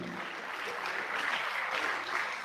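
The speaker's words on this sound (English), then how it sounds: "Please keep the applause going." A hall audience at a Nigerian research foundation fundraising launch keeps applauding a 10 million naira donation, a steady wash of many hands clapping at moderate volume throughout, with no voices over it.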